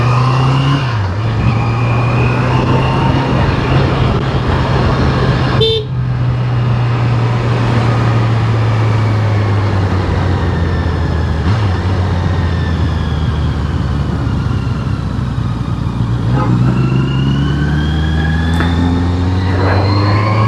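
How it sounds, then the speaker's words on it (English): A fully loaded truck and a bus passing on a road, heard from a Honda CBR650R motorcycle on a ride toward the hills, with a loud, steady engine and road roar and shifting engine tones throughout. "fully loaded truck."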